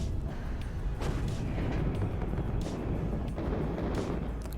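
Counter-battery artillery fire in the WARNO strategy game sounds as a steady stream of distant, muffled booms and thumps, several rounds landing in irregular succession over a constant low rumble.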